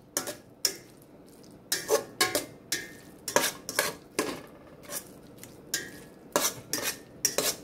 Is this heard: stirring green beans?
yes